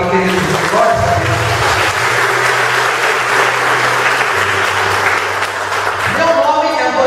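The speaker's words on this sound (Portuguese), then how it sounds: "Aplauda essa palavra aqui, querido." A church congregation applauds during an evening healing and deliverance service, a steady broad wash of clapping lasting several seconds with organ or keyboard tones sustained underneath.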